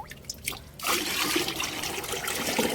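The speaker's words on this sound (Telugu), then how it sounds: "ఇలా అన్ని మొక్కలకు వాటరింగ్ అయితే చేసుకుందాం" Garden plants are being watered. After a brief lull, a close, continuous trickle of water splashes and dribbles steadily onto soil and leaves.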